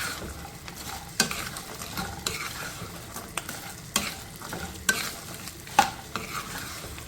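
A spoon stirs crispy fried chickpeas into a spicy chana chilli snack mixture, producing repeated dry rattling scrapes and clatters at an irregular pace with a faint sizzle beneath, close and alone without speech.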